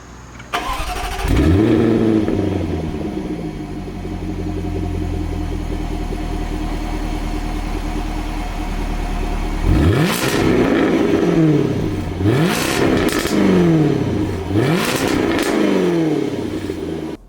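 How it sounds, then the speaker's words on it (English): Jaguar F-Type R sports car exhaust: a loud engine start bark, then a sustained idle, followed by several sharp revs rising and falling close by, with no talking. "The Jaguar F-Type R is a good car, but this exhaust makes it out of this world."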